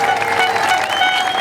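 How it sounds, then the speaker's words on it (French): A protest crowd at a street march applauds, a short burst of dense, even clapping heard close and fairly loud throughout. "applaudissements s'il vous plaît."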